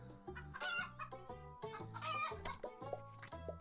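Giant chickens cluck and crow in the farming video game Terracar, with game music in the background; the calls come in a steady run of close bursts over a rhythmic tune.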